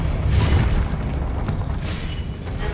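Confringo blasting spell in Hogwarts Legacy bursts with a deep booming blast at the start, its rumbling roar decaying slowly, loud and close with no talk.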